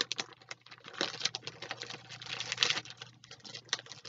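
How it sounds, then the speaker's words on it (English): Crinkling of plastic packaging around floss or craft supplies, soft irregular crackles and rustles close by, quiet and continuous for a few seconds. "let's listen to the crinkling"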